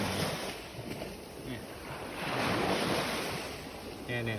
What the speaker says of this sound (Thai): เวลาที่คลื่นเขา ซัดมาแล้วจะมีภายน้ำติดมาด้วยกับคลื่น